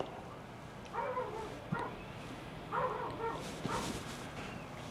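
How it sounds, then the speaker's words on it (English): A dog barks at the door in short bursts, a few separate volleys spaced over several seconds, moderately close, with some whimpery yips between them. "your dog is barking at the door"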